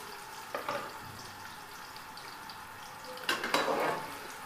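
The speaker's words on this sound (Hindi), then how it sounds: "सबसे पहले मैं है ना आलू है ना डाल रही हूँ गरम घी में।" Potatoes frying in hot ghee make a quiet, steady sizzle, with two short bursts of louder crackle and utensil clatter as the pan is stirred.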